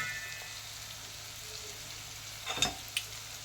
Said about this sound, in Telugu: దానిలోనే మనం నీట్గా ఆయిల్లోనే ఉల్లిపాయ, పచ్చిమిరపకాయలు వేసేసుకుందాము.